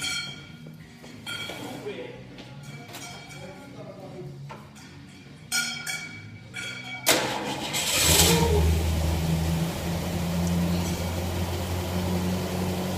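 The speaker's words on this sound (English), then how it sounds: "here goes a cold start on Robert's car" A 1967 Ford Mustang convertible's carbureted engine cranks and cold-starts after a stretch of voices and clatter in a shop, then catches and settles into a loud, steady, rumbling idle with some revving.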